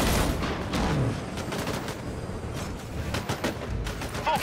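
Dense, continuous gunfire from the sci-fi shooter Disintegration: loud, overlapping bursts and rapid shots in a sustained fusillade, with no voices.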